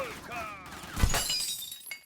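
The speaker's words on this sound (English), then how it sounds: "He wasn't allowed to break the glass, but I could." Glass shatters in a burst after being shot in a video game, a loud crash with a bright spray of breaking shards, preceded by faint game background sound.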